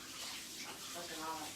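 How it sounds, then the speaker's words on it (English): Tap water running while hands are washed in a home kitchen during macaroni and cheese prep, a soft, steady splashing hiss that stays faint and continuous. "Wash your hands."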